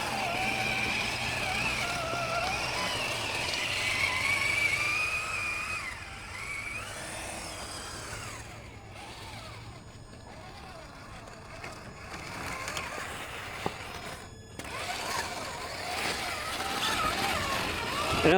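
Traxxas TRX-4 RC crawler truck driving and spinning around outdoors, its small electric motor whining steadily at close range with rising and falling pitch, plus brief scraping and crunching from the terrain.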